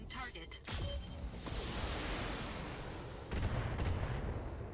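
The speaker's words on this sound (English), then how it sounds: "Let's go on the medium building and fire the LRM-5." Missile salvo from a mech's LRM-5 launcher striking a medium building in the BattleTech game: a dense, rumbling barrage of launches and impacts that sustains throughout, swelling again into a heavier burst near the end.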